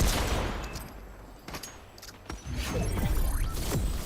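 Gunfire in the video game Fortnite: a rapid burst of shots at the start, then scattered single cracks and further bursts of firing with impacts, fairly loud and without talk.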